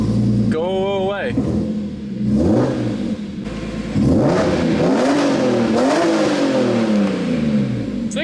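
A BMW E46 M3 engine revs in loud, rising and falling sweeps close by, with a short high-pitched whine near the start and a voice talking over parts of it.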